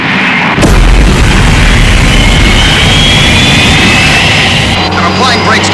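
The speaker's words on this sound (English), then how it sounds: "Okay, Fireflash, reverse thrust." A Fireflash jet airliner's engines roar in reverse thrust as a loud, sustained wall of rumbling jet noise with a sharp onset, with voices faintly mixed in beneath it.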